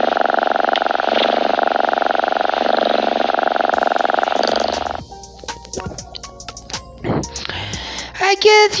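A voice imitates a happy cat's purr in a long, steady, rumbling stretch, close and loud. Breathy vocal sounds and murmurs follow it.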